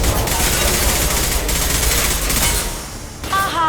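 Gunfire in the Mass Effect 2 video game, a dense rapid fusillade of shots that fills most of the clip loudly, thinning near the end as a brief electronic tone cuts in.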